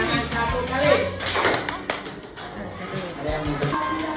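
Elementary school students in a classroom clap their hands in unison amid a teacher's speaking and scattered taps and knocks, with children's voices nearby.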